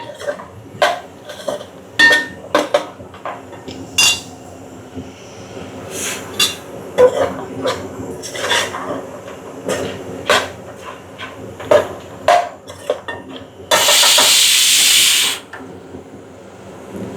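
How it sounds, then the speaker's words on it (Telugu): A metal spoon strikes and scrapes a pan as mutton is stir-fried with spices for a restaurant-style curry. The sharp clanks come close and irregular, and a brief hissing burst sounds near the end. "వీటిని కూడా ఇప్పుడు ఫ్రై చేసుకోవాలి మటన్లో కలిపి కలిసి కలిసే వరకు బాగా ఒక టూ మినిట్స్ ఇలా ఫ్రై చేసుకుని"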